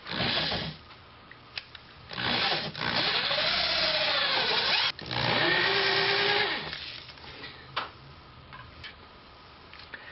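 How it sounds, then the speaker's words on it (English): A power tool cuts carefully into plywood to fit a drywall electrical box, its whining motor rising and falling in a few loud bursts with short pauses between them. No one speaks. "I want to very carefully cut through the plywood."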